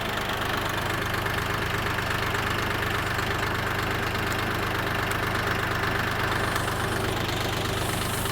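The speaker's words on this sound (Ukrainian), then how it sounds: "ви чуєте звук роботи двигуна у трактора Юто 244" A YTO 244 tractor engine idling steadily, a constant loud rumbling drone with no pauses and no voices.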